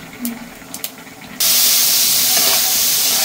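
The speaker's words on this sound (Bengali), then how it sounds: "তেলটা গরম হয়ে গেছে, এখন একটা জিরা সম্বার দেবো" Cumin seeds go into hot oil for tempering a cabbage dish. After a quiet start, a sudden loud, steady sizzle bursts out and holds strongly until the end.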